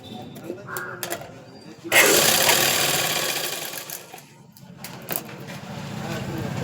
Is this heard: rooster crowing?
no